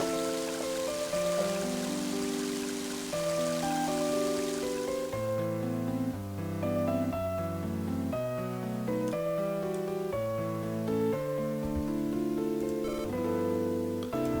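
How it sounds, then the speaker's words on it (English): Steady rain hiss falling throughout a scene in the video game Mother 3, blended with a melodic music track playing over it at constant level. "And you can see it's raining everywhere."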